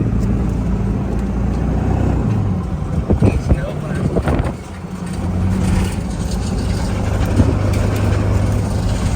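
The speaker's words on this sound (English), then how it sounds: "I hear engines." Inside a 24-year-old truck without air conditioning, towing on a bumpy road: a continuous low engine rumble with rattling jolts and bumps, while people talk over it.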